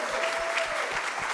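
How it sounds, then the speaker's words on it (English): Audience applause at a gathering on book censorship and bans, a steady dense patter of clapping from a room of listeners, fairly close and even throughout the short burst. "Y'all can clap for the 3 Newberries"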